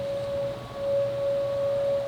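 A civil defense siren sounding during its monthly test, a single steady tone holding level throughout, heard from a distance with faint swelling in volume and no talk.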